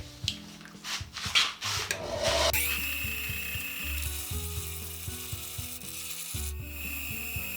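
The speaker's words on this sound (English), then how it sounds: "I need to grind off this leading end" A harsh, continuous grinding of the metal end of a windmill vane part runs steadily for several seconds after a few short scraping bursts, loud and close.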